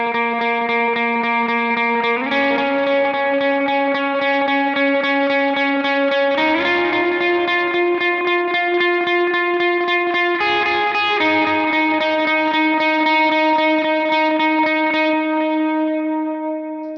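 Electric lead guitar through distortion and chorus effects plays a sustained melodic line for a worship song, held notes stepping up and changing every few seconds, loud and alone.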